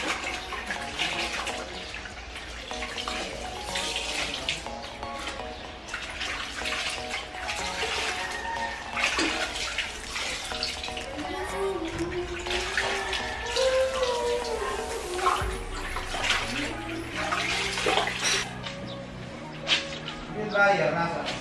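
Water runs steadily during home laundry, a continuous rushing wash with tonal background sounds layered over it throughout.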